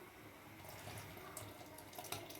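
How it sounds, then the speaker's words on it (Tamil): Tamarind water poured into a cooking pot for obbattu saru gives a soft, steady trickling splash, quiet and continuous with no voices. "புளி தண்ணி சேர்க்குறேன்."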